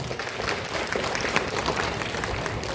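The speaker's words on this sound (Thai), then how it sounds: "ขอเสียงปรบมือหน่อยครับ" Onlookers at a Muay Thai grading ceremony in Lopburi, Thailand clap loudly in a brief, busy round of applause, many hands overlapping into a full, crackling patter.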